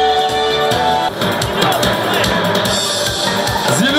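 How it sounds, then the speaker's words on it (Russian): A crowd cheers and applauds at a car audio and tuning festival awards ceremony as a winner is called up, lively noise over music with voices and whoops throughout. "Александр Феофилактов, под ваши аплодисменты."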